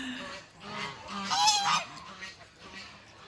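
Geese on a farm pond honk in a loose, overlapping series of calls at moderate distance, with one louder burst in the middle, against quiet outdoor background.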